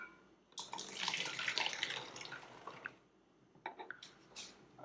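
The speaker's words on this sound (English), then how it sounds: "Next you add about half a cup of water. I have a funnel for this so it all goes in." Half a cup of water poured through a funnel for a home science experiment, a steady splashing pour of about two and a half seconds, then a few short drips and trickles.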